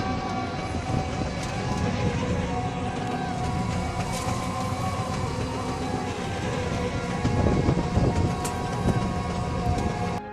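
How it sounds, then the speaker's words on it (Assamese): A train rumbles steadily past a level crossing nearby, a continuous roar of wheels and rattling cars that swells slightly toward the end. "আহি থাকোঁতে গেটখন পৰিল, কাৰণ ট্ৰেইন অহাৰ সময় হৈছে"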